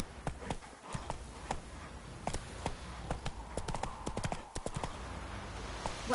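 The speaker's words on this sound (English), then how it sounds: "That's it, Roach" A horse's hooves clip-clopping at a steady walking rhythm in The Witcher 3: Wild Hunt, crisp repeated hoof strikes over a quiet game ambience.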